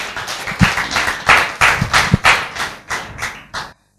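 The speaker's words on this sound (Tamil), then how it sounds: "கைத்தட்டுங்க பாக்கலாம்." Brief burst of audience clapping during a Tamil Christian Easter sermon, a loose, uneven patter of hand claps with a few louder thumps, rising and fading over about four seconds before cutting off.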